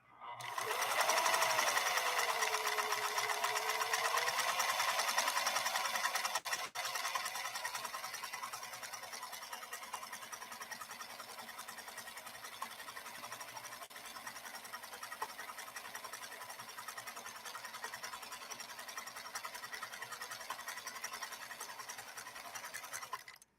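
A PFAFF 332 sewing machine stitching steadily, its fast even mechanical whir running continuously and close, slightly louder at the start and then settling for the rest.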